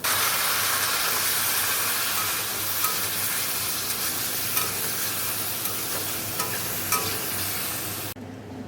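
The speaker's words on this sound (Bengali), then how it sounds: "জিরের গুঁড়ো আর একটু কাশ্মীরি লঙ্কার গুঁড়ো দিয়ে ভালো করে কষে নিয়ে জল ঢেলে দেবো" Cumin powder and Kashmiri chilli powder frying in a pan, giving a loud, steady close sizzle and hiss with occasional stirring clicks, cutting off abruptly near the end.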